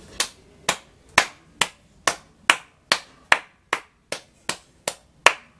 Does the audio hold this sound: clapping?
yes